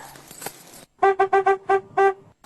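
A car horn honks five times in quick bursts, loud and close, after a stretch of quieter background sound.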